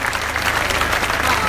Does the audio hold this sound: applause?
yes